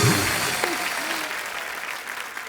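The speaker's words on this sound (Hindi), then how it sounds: "ठोको ताली।" Studio audience on an Indian TV comedy show breaks into steady, dense applause that holds at an even level throughout, with a few voices mixed in.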